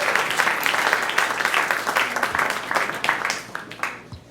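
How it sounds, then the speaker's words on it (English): An audience applauds a young girl pianist after her brave turn at a piano demonstration, steady dense clapping filling the room at moderate volume, with faint voices mixed in. "Let's give Ella a round of applause for coming up here, being so brave."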